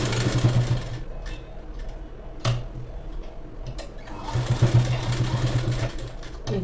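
A sewing machine stitches a plain blouse in short bursts of fast mechanical chatter, close and fairly loud, pausing between runs with a few sharp clicks in the gaps.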